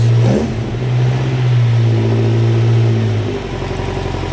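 A 1965 Ford Cortina GT's 20-valve blacktop engine with quad throttle bodies rumbles at idle, then settles into a rougher, louder throttle sound, with a brief exclamation from a person partway through.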